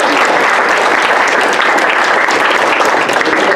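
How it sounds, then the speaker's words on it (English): Steady, dense applause from a workshop audience fills the room, loud and continuous without pause, with no voices standing out above the clapping. "I think we should all give a big round of applause to Justine who put this together."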